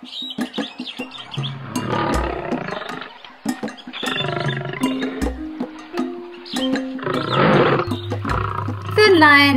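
Lioness roar: several deep, rumbling roars at close range mixed with animal cries and chirps, alongside a voice that seems to be speaking or imitating the calls.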